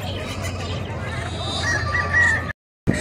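Roosters crow amid clucking fowl and a noisy livestock-market background, with a brief dropout near the end.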